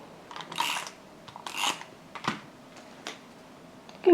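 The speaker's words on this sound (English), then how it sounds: "I'm just going to cut it a bit smaller" Scissors snipping scrapbooking paper while making Christmas gift tags, with several separate crisp cuts spaced about a second apart, close and fairly clear in a quiet room.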